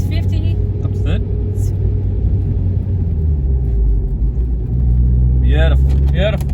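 A learner drives a manual car, with a steady low engine and road rumble from inside the cabin that rises slightly near the end, while people talk over it.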